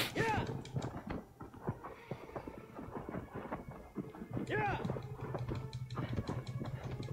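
A horse galloping in the video game Shadow of the Colossus, with rhythmic hoof clops under loud game ambience and occasional whinnies, and two bursts of hoofbeats separated by a brief lull.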